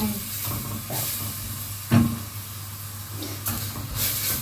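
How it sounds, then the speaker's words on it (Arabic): Onions sautéing in a pan with black pepper, a steady soft hiss of frying running under the whole stretch with a brief louder clatter near the middle. "شوح البصله بتاعتنا كده ايه تشويحه كده فيها"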